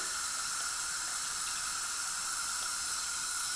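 A brush is rinsed under a running tap, and the water gives a steady, even rushing hiss that holds at a constant level throughout with no voices.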